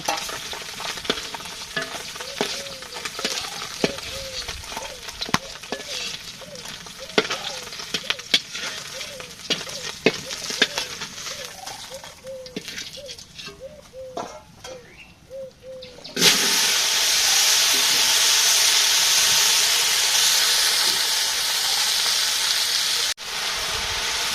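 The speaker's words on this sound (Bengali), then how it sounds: "মশলা কষানো হয়েছে, পেঁয়াজ দিয়ে এখন ঝোল দেবো।" Spice paste with fried fish curry sautéing in a pan: stirring clinks and scrapes over a low sizzle, then a sudden loud, steady hiss as more ingredients hit the hot pan, probably onions or liquid.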